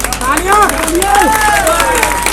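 A crowd at a political speech claps and shouts in a loud, busy mix, with raised voices and cheers layered over scattered applause throughout.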